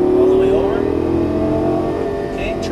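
A Lamborghini Gallardo LP550-2 under full throttle, its engine a loud, sustained roar rising in pitch from inside the cabin, with speech partly buried under the noise.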